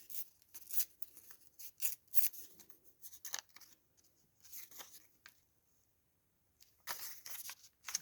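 Paper is torn by hand for a junk journal page, close and crisp, in a rapid run of short rips, a quiet pause, then another burst of tearing.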